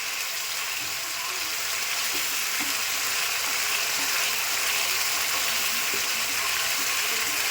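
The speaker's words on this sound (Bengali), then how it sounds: "প্রচণ্ড তেল টিপছে তার জন্য দূরে সরে যাচ্ছি" Hot oil spatters and sizzles steadily in a pan while cumin paste cooks for a cauliflower kofta curry, a dense close crackle with no pauses.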